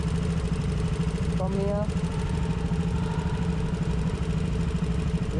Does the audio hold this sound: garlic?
no